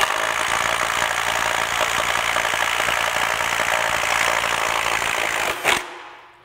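DeWalt Atomic cordless impact tool on an 8 amp hour battery driving a bolt, a loud, close, rapid continuous hammering rattle for over five seconds, ending with a brief burst and then quiet.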